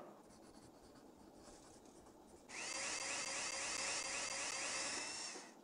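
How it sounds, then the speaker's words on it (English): Power drill whirring steadily as it bores holes into the tops of castle turrets for flagpoles in the Tonka Workshop game, a loud continuous buzzing tone that starts abruptly midway and holds to the end. "Drill holes in the tops of the turrets for flagpoles."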